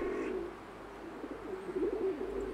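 Soft repeated dove-like cooing from a game bird in a Christmas fairy-tale puzzle adventure, a low warbling call rising and falling, close by with a brief bright tone at the start and no talk.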